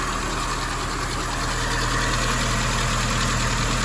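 A 1961 Triumph TR3A four-cylinder engine idles after a carburetor adjustment, a steady, loud, close rumble with an even pulsing beat and no letup.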